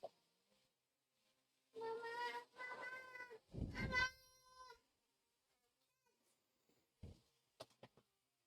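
A cat gives several drawn-out meows close by, with a few short faint sounds afterward in an otherwise quiet room.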